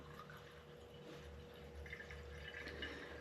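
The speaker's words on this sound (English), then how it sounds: "try pouring my kerosene back in there without making a huge mess" Kerosene is poured back into a Coleman model 475 lantern, a faint steady trickle and drip of liquid at close range with no voices.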